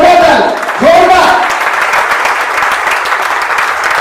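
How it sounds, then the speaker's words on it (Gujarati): Audience applause at a community family get-together in Gujarat, a crowd clapping steadily and loudly throughout with a brief voice cutting in near the start. "એક જોરદાર તાળી, જોરદાર."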